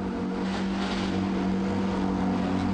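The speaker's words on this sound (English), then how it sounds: "Love the sound of these flat 6s coming to life on the front straightaway." Porsche GT3 Cup Challenge cars on the Streets of Toronto front straight, their flat-six engines running together as a dense, steady, loud rumble with no pause.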